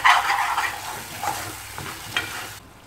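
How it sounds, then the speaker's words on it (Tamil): Masala sautéing in a pan for Chettinad chicken gravy crackles loudly at first, then settles into softer sizzling with a few scraping stirs before cutting off abruptly near the end. "பச்சை வாசனை போகிற அளவு நல்லா வதக்கி விடணும்"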